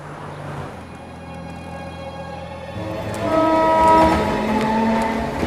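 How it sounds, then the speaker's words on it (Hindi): A train pulling away from a station, loud and close, with a low rumble that swells into a long, sustained horn blast near the end and no talk. "शिवाजी, ट्रेन चल पड़ी।"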